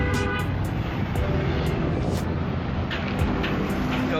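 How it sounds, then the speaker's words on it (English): Busy road traffic in Kingston, Jamaica, a steady wash of engine rumble and tire noise with several short car horn toots scattered throughout, no voices. "Yo, Kingston full of traffic, man."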